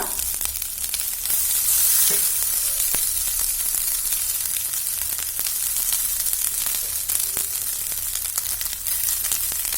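Rice fries on high flame for garlic rice, giving an intense, steady hiss with frequent small crackles and pops, close and unbroken throughout.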